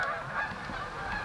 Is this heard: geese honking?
yes